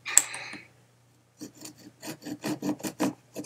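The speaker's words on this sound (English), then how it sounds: "And all you're really gonna do is just cut a divot right about here." A knife carves a divot into a wooden clothes pin, making close, faint, rhythmic scraping strokes that follow a brief rasp and a pause.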